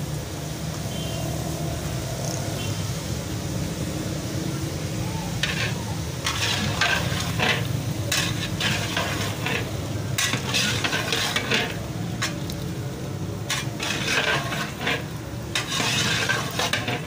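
Chicken biryani masala in a pot with 250 grams of yogurt just added, stirred with repeated scraping strokes of a spoon against the pot over a low simmering sizzle, close up and without talk.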